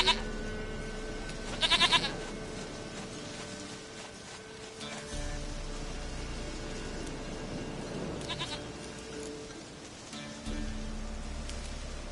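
A goat bleats several times in short, wavering calls over a soft rain-like patter, with another animal-like cry partway through, fairly faint and steady in the background.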